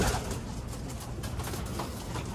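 Pigeons coo softly in a backyard loft where birds are nesting, low repeated murmuring calls over a constant noisy background, no voices.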